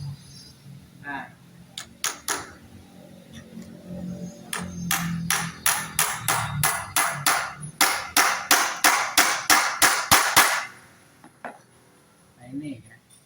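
Nails are hammered into wood while a low-cost chicken coop is built, a fast run of sharp, ringing hammer blows landing close and loud in steady rhythm, with brief talk before and after.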